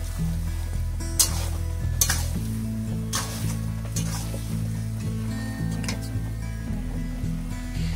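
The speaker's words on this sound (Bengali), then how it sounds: "বেশ ভালো করে নেড়ে চেড়ে নিচ্ছে, ভালো করে এখন মশলার সাথে মিশিয়ে আবারও ভালো করে কষিয়ে নেবে।" Chicken curry with spices being stirred and fried in a pan, a steady sizzle with scraping stirring strokes and occasional louder clatters of the utensil against the pot, close and continuous without talk.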